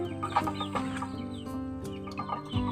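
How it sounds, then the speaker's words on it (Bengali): Nearby chicken clucking in a run of short, throaty calls, with other fowl faintly audible. "এই যে মুরগি হচ্ছে ভোলা রাজা"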